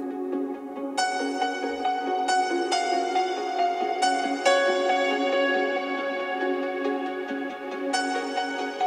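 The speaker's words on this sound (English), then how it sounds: "And also piano sound a little bit later." Piano chords in an electronic track, struck in a steady pattern of sustained, bright notes that ring and decay between new strikes, layered over a constant backing without any voices.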